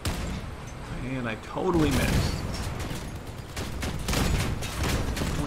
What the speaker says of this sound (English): the sound on this thing is just... feels like a gigantic gun